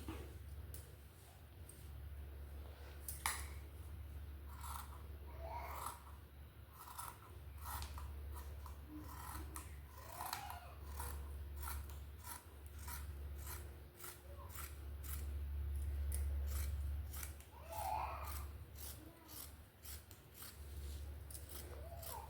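Scissors cut through nighty fabric to make a panel anarkali dress, giving a steady run of close, crisp snips with a faint hum underneath.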